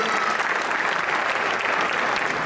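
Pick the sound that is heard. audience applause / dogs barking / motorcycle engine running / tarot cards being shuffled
audience applause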